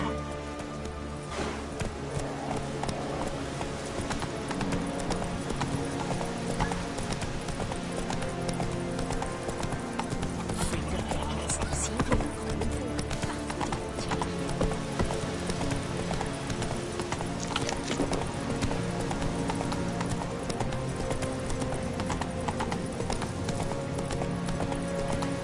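A horse gallops in The Witcher 3, its hooves clip-clopping in a fast, steady rhythm throughout, close and prominent over a continuous game soundscape.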